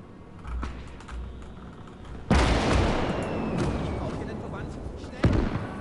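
Medium artillery fires in a World War II strategy game set during Operation Zitadelle: one heavy boom rolls into a long rumble, then a second sharper blast follows near the end.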